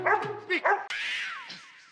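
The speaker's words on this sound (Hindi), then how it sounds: "देखिए वो अभी भी भौंक रहा है।" A pet dog barks in a busy household scene, a few sharp close barks followed by a higher yelping whine, loud and alone without talk.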